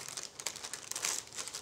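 Plastic packaging around fishing pegs is opened and cut with scissors, giving close, soft crinkling and rustling with small snips and crackles, quiet and continuous.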